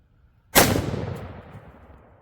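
A single sharp rifle shot from a Bear Creek BC10 in .243 Winchester firing 80-grain Winchester Super X soft-point ammunition at 110 yards, a loud close crack that rings out and fades over about a second and a half outdoors.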